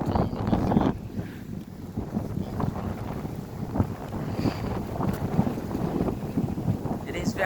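Strong wind buffets the microphone outdoors on a walk near a golf course by the water, a steady rumbling roar with gusty swells throughout, no talk heard.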